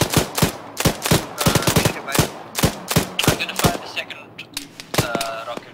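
Rapid bursts of gunfire ring out close and loud in sharp, irregular volleys during an armed operation, with voices speaking between and over the shots.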